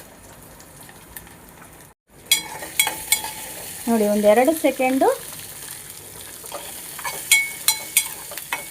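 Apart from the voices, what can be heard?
green chillies frying in a pan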